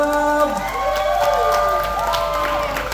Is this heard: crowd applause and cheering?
yes